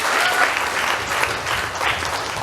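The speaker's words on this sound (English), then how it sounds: "a very big round of applause for the contributions that they have made" Steady, dense applause from an audience at a school graduation ceremony fills the whole stretch, even and sustained with no voices standing out.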